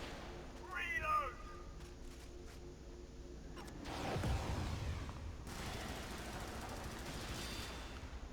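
Automated defensive turret in the Helldivers game firing continuous bursts from about four seconds on, a dense sustained rattle over a noisy battle mix, after a short stretch of voice-like sound and scattered shots.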